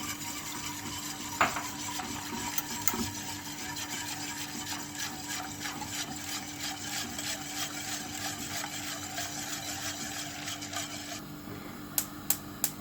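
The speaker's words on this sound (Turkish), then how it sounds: "Ve kaynayana kadar karışımımızı karıştırıyoruz" A flour and water mixture being stirred in a soup pot of water heading toward a boil, with a steady faint scraping of the spoon against the pot and a few light taps and clinks.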